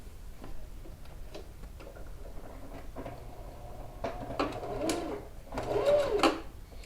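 A domestic sewing machine stitches along a crease on a wrap dress, joining a bound underarm section to bias binding. Its steady mechanical ticking runs throughout, moderately close, and grows louder and busier in bursts toward the end.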